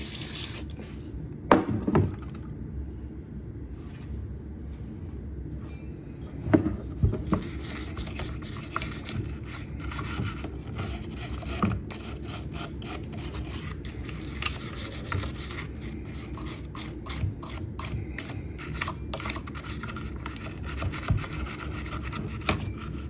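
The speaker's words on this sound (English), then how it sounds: "That brush is pretty much just breaking up some of the larger particles." A brush scrubs debris from the clutch area of a chainsaw, giving close, repeated rasping strokes in an uneven rhythm with occasional sharper knocks and no talking.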